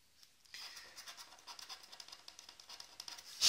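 Scratching a Lotto WinGo scratch card: a steady run of dry, close rasping strokes, quick and rhythmic, lasting a few seconds with no talk.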